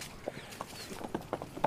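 A 24-month-old Ali Nukra colt standing 64 inches tall is led at a walk, its hooves giving faint, irregular clip-clops on the ground outdoors, with no voices.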